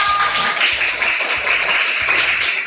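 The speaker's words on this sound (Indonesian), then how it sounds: "Tepuk tangan buat kita semua." Classroom applause from a group of students during an Islamic religious education lesson in Indonesia, a broad steady wash of clapping that stays loud throughout with some voices mixed in.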